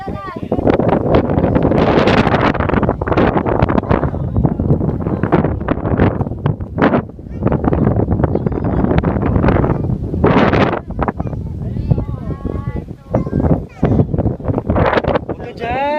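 Strong wind buffets the microphone in loud, gusty roars and rumbles on an outdoor view deck, with people talking and calling out over it.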